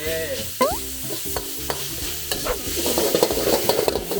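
Bacon stir-fried with holy basil leaves in a pan gives a steady close sizzle, with repeated scraping and clattering strokes as the ingredients are tossed over high heat.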